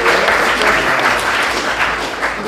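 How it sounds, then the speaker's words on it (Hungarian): Dense, loud applause fills the room from a school audience in Győr after a mobile science demonstration, a steady wash of many hands clapping close by without a break. "egy nagy tapsot neki"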